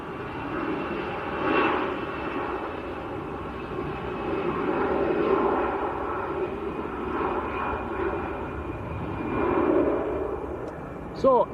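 An EasyJet airliner at Manchester Airport produces a steady, moderately distant jet engine rumble that swells and fades gently, with people talking quietly over it.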